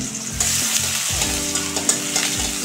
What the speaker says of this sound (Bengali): এবার আমি রসুনটা আর এই যে পেঁয়াজটা আমি একটুখানি ভেজে তুলে রাখবো।